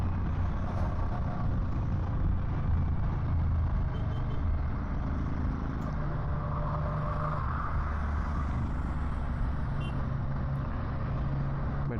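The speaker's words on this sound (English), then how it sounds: "today there's a bit more traffic, being a weekend" Weekend road traffic near Kolli Hills, with cars and trucks passing in a continuous broadband roar, close and steady, with a brief brake hiss rising in the middle.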